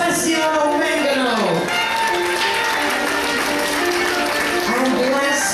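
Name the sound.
audience applause on a cruise ship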